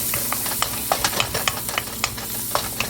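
Curry leaves and pandan leaves frying in a pan for fried rice, a soft steady sizzle with scattered crackles and pops throughout, no talking.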